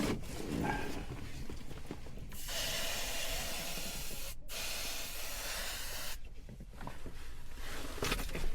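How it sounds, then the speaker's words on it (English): Long, loud hissing bursts of an aerosol insecticide spray can, two sustained sprays with a brief break, inside the cockpit of a light plane. "Spray it for 5 seconds and you're in there for 10 minutes."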